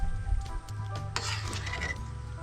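Maruya, Filipino banana fritters, frying in a pan: a steady sizzle of hot oil with occasional stirring scrapes and light utensil clinks against the pan.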